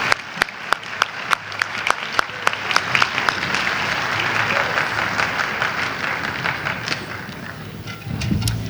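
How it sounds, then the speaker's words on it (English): At a holiday brass band concert, the audience applauds a tuba player named Christian. A few distinct early claps swell into dense, sustained applause across the hall. "please, in giving Christian a round of applause for his efforts this evening"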